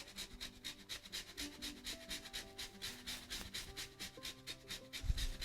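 Frozen peeled ginger is rubbed against a grater in a steady, rapid back-and-forth rasping rhythm, close and continuous, with no talking.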